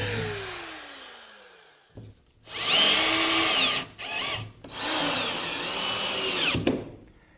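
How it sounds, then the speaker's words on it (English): A 1/8 inch bit drills holes through sheet metal on a heavy-duty outfeed table workbench, in two close, loud bursts with a whining pitch, separated by a brief pause and ending with a sharp click. "Using an 1/8 inch drill, we can finish up the holes."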